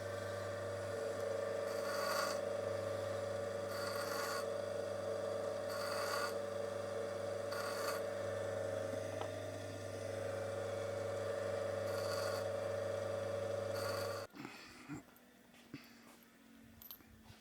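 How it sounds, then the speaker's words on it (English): A grinder whirs steadily while wooden pieces are pressed against it, with repeated rasping bursts of contact roughly every two seconds, then the motor cuts off and winds down near the end. "I'm just going to run them around the grinder, just 1 rotation, just to give myself a little bit more clearance."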